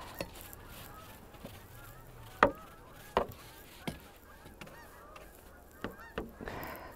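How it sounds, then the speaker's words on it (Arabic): Geese honking outdoors on a windy, snowy, bitterly cold February day in Canada, a handful of brief calls spaced irregularly, fairly faint against steady wind noise. "الطيور دي"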